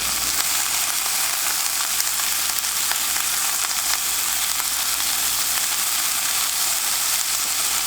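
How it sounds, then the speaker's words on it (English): Pork stir-frying in a pan for lo mein with bok choy and celery, seasoned with plenty of pepper, gives a loud, steady, dense sizzle that runs unbroken throughout with no voices. "And then you want to stir it for 1 to 2 minutes."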